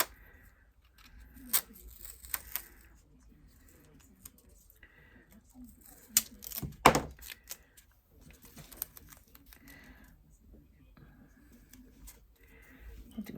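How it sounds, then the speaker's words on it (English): Tape pulled and pressed down to hold a sheet of paper on a table, heard as scattered close, quiet rips, crinkles and taps with a louder tearing burst midway, amid soft handling noises. "So let's get this taped down."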